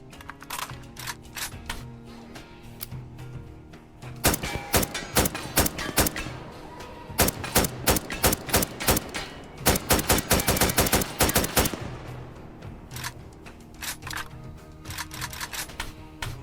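Rapid gunfire from the Tactical Assault VR shooter game, its sound-pack weapons cracking in dense bursts and fast automatic strings, loud and up close, with quieter stretches between volleys and no talking.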